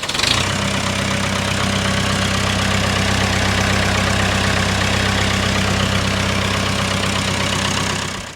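A 1970 Massey Ferguson 185 tractor engine idles close by, a steady loud low rumble with an even, throbbing chug that holds throughout.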